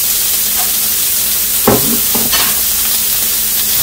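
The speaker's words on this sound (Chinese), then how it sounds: "翻炒，" Onion and carrot stir-fry in a wok with a dense, loud hiss of frying, broken by two or three quick scraping tosses of the spatula, close and with no talking.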